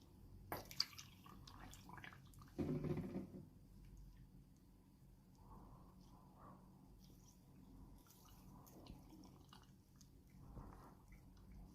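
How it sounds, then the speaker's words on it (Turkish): Water pours into jars of beetroot pickle vegetables, heard as a faint, quiet trickle and gurgle with a brief louder splash early on, then soft intermittent dribbling. "Şimdi de üzerine suyunu ekliyorum."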